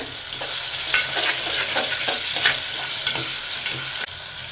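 Shallots with ginger garlic paste and spices frying in a pan for tomato rice, a steady close sizzle broken by repeated scraping stirs, with no talking.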